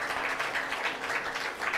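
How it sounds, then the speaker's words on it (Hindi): Faint, steady clapping from an audience during a Satyanarayan vrat katha gathering, a brief continuous patter heard alone. "भगवान सत्यनारायण देव के लिए अद्भुत तालियां बजाना।"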